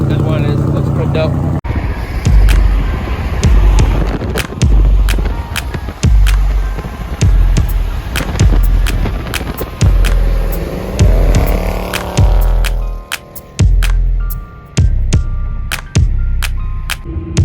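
A stock supercar engine revs loudly at an outdoor winter toy fundraiser car event, with sharp throttle blips and pops over a constant roar and people talking nearby.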